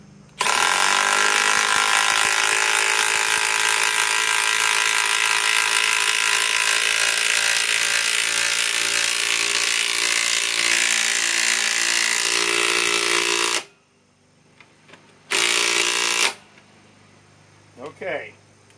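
A DEWALT Atomic impact driver sinks 6 inch lag screws into wood with a loud, continuous rattling hammer that runs for about thirteen seconds, then stops. A short second burst follows after a pause.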